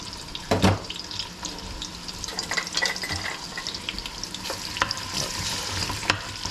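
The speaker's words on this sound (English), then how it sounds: "I could start the frying process here in the meanwhile" Okra sizzles and crackles as it fries in a hot pan, with occasional scraping and stirring clatters and a louder clank near the start.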